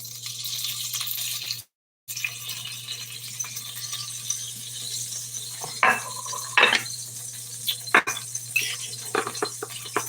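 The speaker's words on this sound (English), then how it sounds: "I'm just gonna cook my eggs right here on the same skillet." Eggs cooking in butter on a skillet give a soft, steady sizzle, briefly cut out, with a few sharp utensil clinks near the end.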